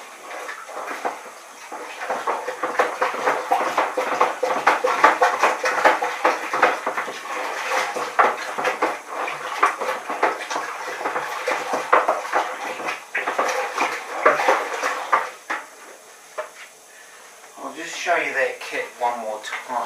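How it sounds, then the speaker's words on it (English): Home-brewed all-malt lager stirred with a spoon, a continuous close sloshing and scraping of liquid in a vessel with rhythmic swirls, fading briefly near the end before resuming. "Now we'll give it a stir up"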